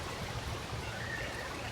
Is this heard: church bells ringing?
no